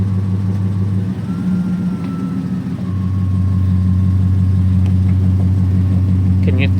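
A car with a swapped engine is put into gear and starts moving. Its loud, close engine drone dips and wavers briefly, then settles into a steady, even rumble.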